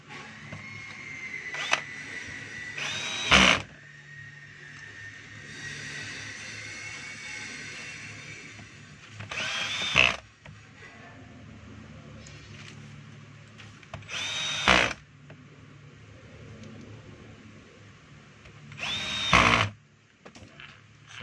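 A power screwdriver drives screws into the gear case cover of a Black and Decker G720 4-inch grinder, four short whirring bursts spaced several seconds apart, each ending in a tightening whine, with quieter handling noise between.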